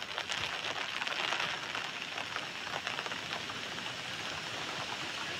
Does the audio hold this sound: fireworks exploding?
no